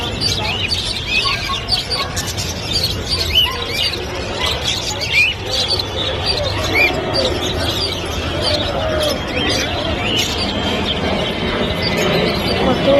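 Many birds chirp and call together at a bird market, a dense continuous chatter of tweets and coos with steady crowd noise underneath and occasional voices.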